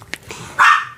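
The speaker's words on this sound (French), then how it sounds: "c'est Jack qui n'arrête pas de japper" A dog yips once, a short, loud, sharp bark standing clearly out against a quiet indoor background.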